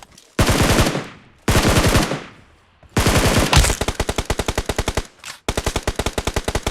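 MG3 machine gun fire in a video game, loud close bursts of rapid automatic shots: two short bursts, then a longer sustained stream broken by brief pauses and a final burst.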